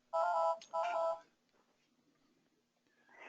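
A telephone rings twice in quick electronic bursts on a business conference call, then the line goes nearly quiet with faint background sounds.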